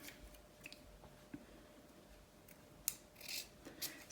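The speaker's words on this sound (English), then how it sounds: "So at the points here, you can just cut off a bit of fabric" Fabric scissors snip off excess material at seam points while sewing a garment, giving a few quiet, close, crisp cuts with small clicks, the sharpest ones near the end.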